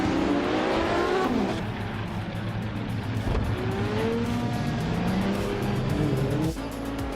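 Video-game race cars scream along at full throttle, engine pitch rising and dropping through gear changes, with brief tire squeals and cars passing close, loud and continuous with no voices.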